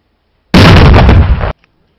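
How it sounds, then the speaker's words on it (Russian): One loud, sudden explosion during a military exercise: a harsh roaring burst lasting about a second that cuts off abruptly, followed by near silence. "Внимание, взрыв!"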